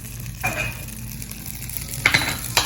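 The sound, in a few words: room temperature butter sizzling in a hot pan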